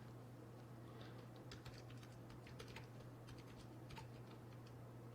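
Keys clatter in scattered bursts on a new computer keyboard, light and close, over a constant low hum, with no voices present.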